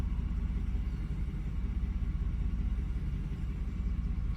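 Car engine idling low while idle timing is being locked and tuned, a steady close low rumble that holds evenly throughout without any voices.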